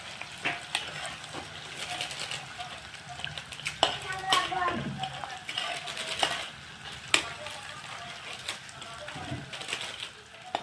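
Ginger, garlic, green chillies and spices frying in a pan for a chicken curry, a soft sizzle with intermittent stirring clatter while a voice talks over it.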